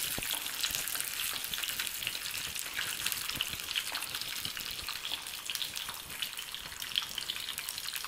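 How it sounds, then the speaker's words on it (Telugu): Cashews frying for ghee pongal until brown, giving a steady, fairly faint hissing sizzle throughout with no speech over it. "మనం జీడిపప్పు వేసుకుందాం. దీన్ని బాగా వేయించుకుందాం. బ్రౌన్ కలర్లో వచ్చేంత వరకు వేయించుకుందాం."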